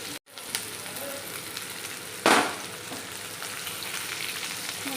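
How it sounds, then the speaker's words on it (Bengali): Cumin paste and turmeric powder hitting hot oil in a pan for a Bengali hilsa curry with potato and eggplant, a steady close sizzle with a sharp hiss burst midway, no talking. "এইবার আমি জিরে বাটা আর হলুদ গুঁড়োটা দিয়ে দেবো।"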